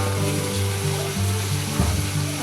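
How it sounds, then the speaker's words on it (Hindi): Potatoes fry in hot oil for aloo biryani, giving a steady close sizzle with low kitchen hum underneath and no talk. "अच्छी तरह से मैं इन्हें फ्राई कर लूँगी।"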